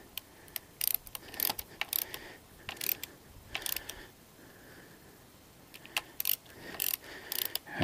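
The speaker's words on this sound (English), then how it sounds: "you're gonna torque this baby down" Ratchet torquing down a fork bolt on a KLX/DRZ 400 motorcycle during a fork rebuild: bursts of rapid clicking strokes, close and crisp, repeated in short runs with pauses between and no talk.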